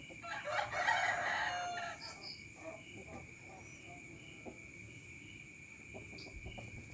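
A six-month-old fighting rooster crows loudly and close by in the opening seconds, then gives a few softer clucks over a steady background of insect chirping.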